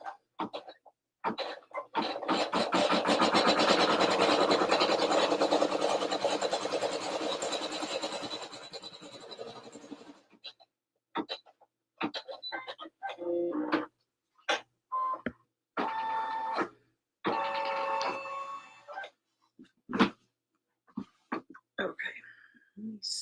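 An embroidery machine stitches a dye line for the muzzle on fleece, a dense steady mechanical run for about ten seconds, then stops and gives way to scattered short clicks and bursts of handling noise.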